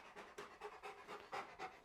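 Duke, a Rottweiler in board-and-train obedience work, pants softly and rhythmically, about half a dozen quick breaths close by with no talking.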